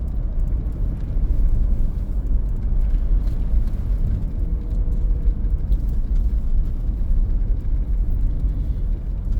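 A car travels along a logging road, giving a steady, loud low rumble of engine and tyres that holds for the whole stretch, with no talking over it.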